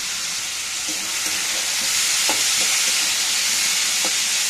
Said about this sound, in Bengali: দেখো সবজিগুলো ভাজা হোক